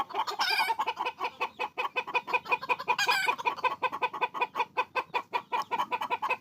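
Several chickens cluck rapidly and continuously nearby, a busy rhythmic chatter with a couple of louder squawks, no voices.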